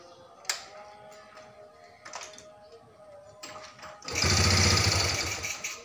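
A motorcycle engine being started and run at a vocational motorcycle-engineering practical exam after fuel-hose work, a loud rushing burst after four seconds following quieter mechanical ticking and clicks.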